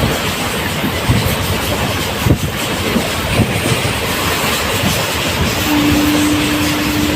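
The Punalur Madurai Express runs along the track, heard from inside an unreserved coach as a constant rumbling clatter with rhythmic wheel clicks, and a sustained tonal hoot near the end.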